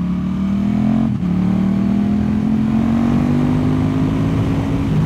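A KTM 1290 Super Duke R ridden through a city accelerates with a loud, close engine note that rises in pitch. After a quick break for a gear change, it keeps climbing steadily for several seconds.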